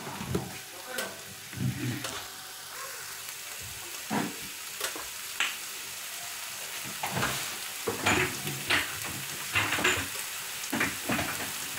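Food being sautéed and stirred in a pan for savoury pastries, with a steady sizzle under repeated scraping strokes of the utensil against the pan.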